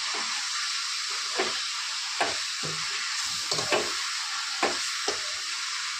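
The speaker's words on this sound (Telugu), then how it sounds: "బాగా ఫ్రై అవ్వాలి. ఫ్రై అయ్యాకే మసాలా వేద్దాం." Chicken frying in a pan, a steady close sizzle broken by about eight sharp stirring scrapes and clacks, with no talk.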